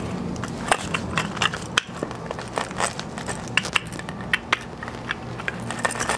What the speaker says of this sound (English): you can use a rolling pin to break down the clay a bit more.